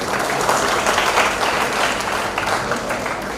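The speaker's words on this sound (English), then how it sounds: "So let's give them a big round of applause." A conference audience at the All India Brahmo Conference breaks into loud, full applause, a dense, steady roar of clapping hands filling the space from start to finish.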